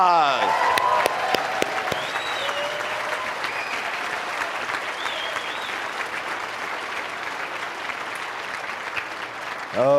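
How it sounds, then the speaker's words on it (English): A seminar audience breaks into applause: sustained, dense clapping from many hands, loud and close, with some voices mixed in, fading at the end. "give yourself a big round of applause"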